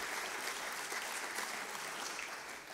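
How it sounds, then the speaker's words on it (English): A large crowd of factory workers claps in steady, dense applause that holds at an even level for the whole stretch, with no voices over it. "I assume those people clapping come from the factory."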